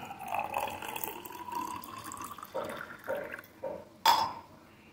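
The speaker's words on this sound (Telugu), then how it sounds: "నెక్స్ట్ వాటర్ కొంచెం యాడ్ చేసుకోవాలి." Water poured into a glass for a lemon and gond katira summer drink, a trickling fill with a few short splashy bursts and a brighter clink near the end, close and fairly quiet.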